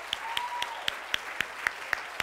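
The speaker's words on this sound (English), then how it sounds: "Clap your hands for him." A church congregation at a children's service claps hands in a steady rhythm of about nine distinct, moderately loud claps, a faint tone drifting underneath.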